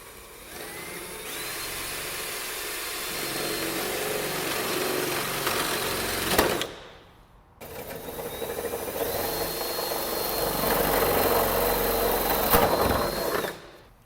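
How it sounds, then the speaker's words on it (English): A power drill bores hood-pin holes through a Seibon carbon fiber hood on a CD5 Honda Accord, with two loud, steady whining runs of about six seconds each separated by a short pause. "now that you have your 2 holes drilled out"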